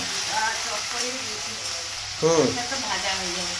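Oil sizzles and crackles steadily, then surges louder as chopped onion drops into the hot pan after ginger and garlic, with a low voice murmuring at times.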